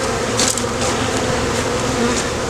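Honeybees buzz steadily around an open hive during spring hive work, a dense continuous drone close to the ear with no one talking.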